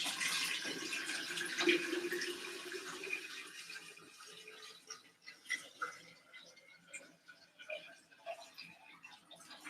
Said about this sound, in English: let us fill it up with water